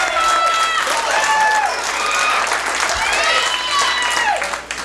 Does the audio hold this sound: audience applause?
yes